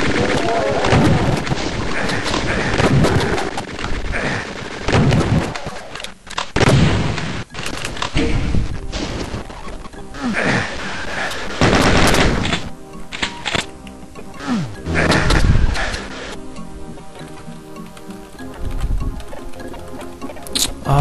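Rapid blue plasma-style weapon fire in the shooter game Doom II, dense bursts of repeated shots and explosions crowding one another loudly across the whole stretch, with chaotic in-game combat noise.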